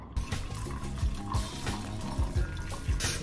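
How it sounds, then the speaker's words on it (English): Patron tequila is poured into candy shots, a close, steady trickle of liquid with small splashy pulses over a few seconds. "Okay, it's time to finally pour in our shots."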